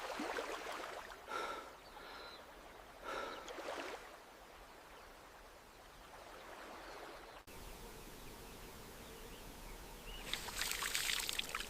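Water splashes and sloshes in a lake as a kudu antelope plunges back in, with bursts of splashing followed by softer rippling and trickling, at moderate distance.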